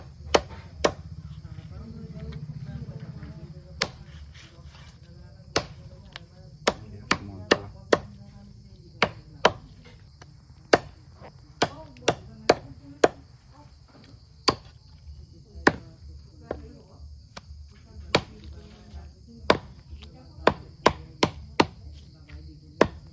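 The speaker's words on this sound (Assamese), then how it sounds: "ধুনীয়া দুটা হাঁহ এইটো কাটিবলৈ আছে কাটি আছো" Duck meat being chopped into small pieces, sharp cleaver strikes on a board landing irregularly, sometimes in quick clusters, over a quiet background with faint insect chirring.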